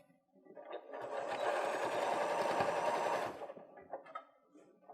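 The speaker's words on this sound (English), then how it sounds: "We're going to do 1/4 of an inch top stitch." A sewing machine runs a quarter-inch topstitch along the edge of a fabric bucket in one steady burst of rapid whirring stitches lasting about two seconds, close by, then slows and stops.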